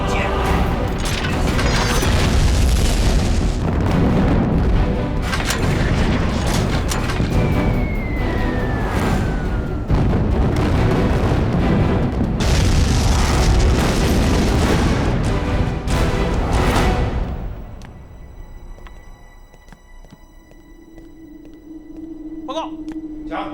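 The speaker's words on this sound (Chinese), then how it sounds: "11架1式轰炸机刚刚在城郊进行了轰炸" Bombers attack a city outskirts in a wartime air battle scene, bringing long stretches of loud rumbling blasts and heavy booming with a descending whine partway through, then an abrupt drop to quieter ambience near the end.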